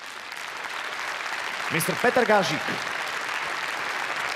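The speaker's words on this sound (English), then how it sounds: "Warm welcome and a great round of applause." Steady applause from an awards-ceremony audience at the Startup Awards 2016, continuous and moderately loud, with a voice briefly speaking over it midway.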